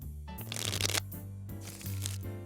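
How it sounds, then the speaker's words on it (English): A deck of playing cards is shuffled for poker in two quick riffling bursts, crisp and close, over steady background music. "Shuffle."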